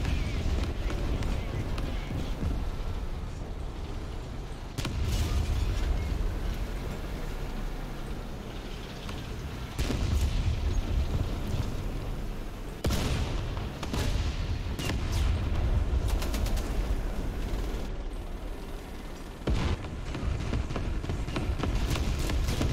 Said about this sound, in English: I'm putting artillery.